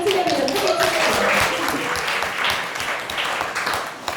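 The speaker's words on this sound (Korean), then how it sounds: "박수를 치려면 크게 치세요" Loud, dense audience applause fills the room at a business presentation, with a voice speaking over the clapping at the start.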